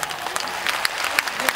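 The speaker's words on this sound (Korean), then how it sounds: "힘찬 박수" Audience clapping at an outdoor special concert at an anti-aging expo, a steady patter of applause with scattered sharper claps, fairly thin and close, with a faint murmur of voices under it.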